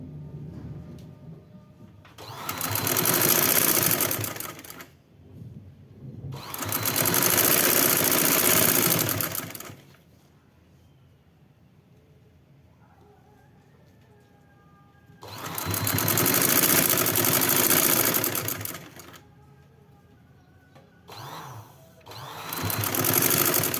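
An electric sewing machine stitches lace onto a garment neckline in four long, loud bursts of fast whirring, separated by quiet pauses and a short final run.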